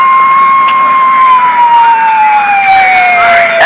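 Ambulance siren wailing steadily and loudly, its pitch sliding slowly downward as it moves, heard in the aftermath of tornadoes in Huntsville, Alabama.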